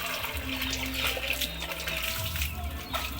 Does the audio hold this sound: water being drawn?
yes